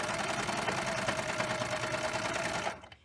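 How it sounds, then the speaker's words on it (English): A serger sewing a seam and trimming off the excess fabric, its rapid, steady mechanical whir running close and loud, then stopping abruptly near the end. "As you sew, it will cut off the extra fabric."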